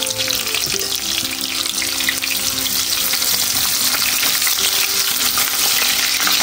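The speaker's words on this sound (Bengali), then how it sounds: "একটু রাফ চপ করে এটাকে একটু ভাজা ভাজা করে নেব" Roughly chopped onion fries for a pork dish, a steady close sizzle with stirring scrapes running throughout, loud and continuous with no voices.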